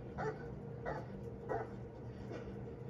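A dog barks four times at a steady, spaced rhythm, fairly faint and muffled as if from a distance or enclosed space, over a low background hum.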